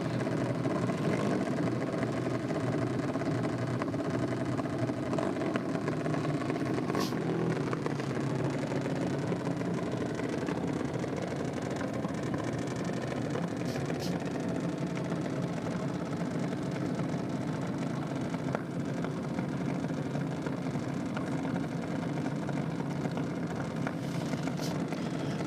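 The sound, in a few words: junior dragster engines on drag strip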